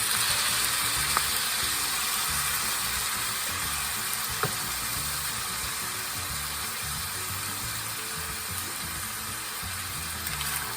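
Drained ground beef sizzles in a pan with canned corn and diced tomatoes, a steady moderate frying hiss broken by a couple of faint clicks.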